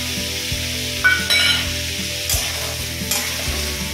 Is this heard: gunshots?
no